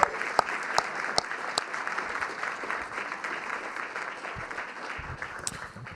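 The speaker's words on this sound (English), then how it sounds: "Could all the ADL staff just stand up so I can sort of lead the applause for you, including you, Oren." Steady applause from a summit audience, clapping continuously for several seconds with a few sharp louder claps standing out.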